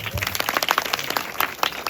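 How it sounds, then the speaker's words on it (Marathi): A crowd at a fancy dress contest in Panvel gives brisk, dense applause, steady and fairly close, with voices mixed in among the claps. "जोरदार टाळ्या"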